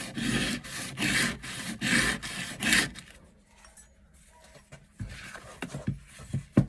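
A rusty kitchen knife sharpened by hand on a whetstone, rhythmic close scraping strokes, about five firm passes, then quieter lighter rubbing and a few soft knocks.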